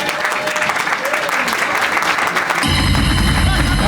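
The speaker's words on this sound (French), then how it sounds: "On applaudit pour Jennifer." Audience claps for Jennifer at a master's degree celebration, a dense loud patter of many hands close by that grows fuller and harsher near the end.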